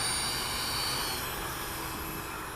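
A Freewing Rebel V2 RC jet takes off to the north from a grass field in a light steady breeze, its ducted fan giving a steady loud high-pitched whine throughout, with no talk.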